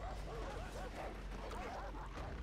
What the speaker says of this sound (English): Oh, I'm getting eaten by dogs.